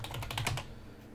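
Quick burst of typing on a computer keyboard, about a dozen soft clicks in a fast run lasting half a second before fading to quiet, close and faint.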